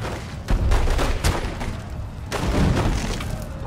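Burst of gunfire in The Godfather II video game, several loud shots and cracks clustered in a busy, dense exchange with no talking.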